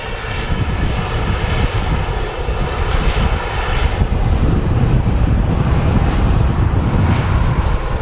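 An airliner's jet engines roar loudly and continuously at Manchester Airport, a broad rushing drone with wind buffeting the microphone, steady and strengthening slightly partway through.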